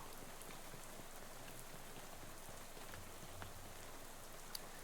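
Rain falls steadily in the video game Shadows Over Loathing, a faint, even patter with a couple of slightly sharper drops near the end and no voices.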